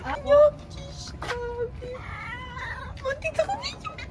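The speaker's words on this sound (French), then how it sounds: "il y a un petit chat" A small cat meows and caterwauls repeatedly nearby on a Moroccan street, several drawn-out plaintive cries rising and falling over faint ambient noise, with people talking around it.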